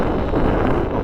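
Wind buffets the microphone outdoors while a Katana X KFm6 FPV wing with hot-wire cut leading edges flies, a steady, loud broadband rush with no other distinct sounds.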